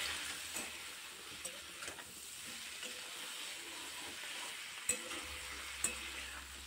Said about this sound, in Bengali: লবণ হলুদ দিয়ে আবার নাড়াচাড়া করে নেব কিছুক্ষণ।